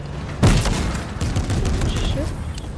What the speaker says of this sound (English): Oh shit, I'm getting shot at.